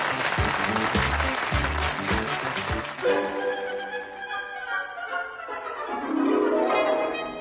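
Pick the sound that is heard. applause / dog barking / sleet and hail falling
applause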